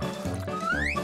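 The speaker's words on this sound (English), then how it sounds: "My water broke!" Cartoon water breaking during a birth scene: a brief, loud watery gush with a rising, bubbly sweep, about one second long amid busy animated background sound.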